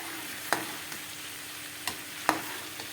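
Methi aloo (fenugreek leaves and potato) being stirred in a frying pan over lowered heat, with a few sharp spatula scrapes against a low steady sizzle, no talk.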